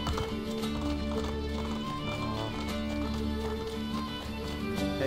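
Horse hooves clip-clop steadily at a running pace in Assassin's Creed Brotherhood, loud and close, with game music or ambience underneath.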